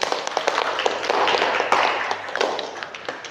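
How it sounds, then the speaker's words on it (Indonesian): Classroom applause for a group of students after a journalism lesson presentation, a steady patter of many hands clapping close by for a few seconds, with scattered louder claps and faint voices mixed in. "Tepuk tangan dulu untuk kelompok 1"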